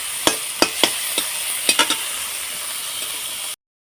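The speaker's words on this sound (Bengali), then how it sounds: "দিয়ে আমি এবার চিংড়ি মাছটা ভেজে নেব" Prawns fry in oil in a wok with a soft sizzle, broken by several sharp spatula scrapes and clinks early on, before the sound cuts off abruptly.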